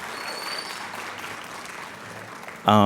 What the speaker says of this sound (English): Everyone give a round of applause for them.